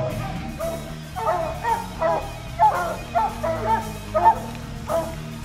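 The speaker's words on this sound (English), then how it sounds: "Dave Saunders had to show Dan what a coon dog is." A coonhound barks in a string of repeated, moderately close bays, roughly one or two per second, with no one talking.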